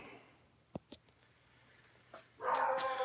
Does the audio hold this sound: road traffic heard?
no